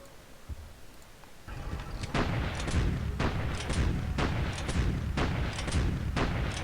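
Panzer Grenadier unit attacking a garrison in Civilization III, a World War 2 Germany game: a run of loud, sharp gunfire and booming blasts repeating roughly every second over a dense rumbling battle din.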